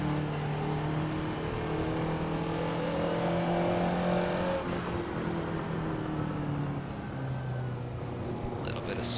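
A Ferrari 288 GTO in Assetto Corsa revs up through the range, a continuous sustained engine drone with steady harmonic tones that rise and shift as it winds out, with a voice speaking over it.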